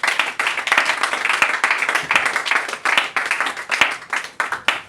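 A church congregation claps and applauds in praise of the Lord, a dense, loud burst of many hands that swells and pulses unbroken for several seconds.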